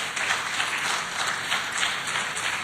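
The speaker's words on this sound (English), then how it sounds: "let's give her a big round of applause as she comes up" An audience at an economic summit hall gives sustained applause as a woman comes up to the stage. The clapping is a steady, moderately loud wash with no voices over it.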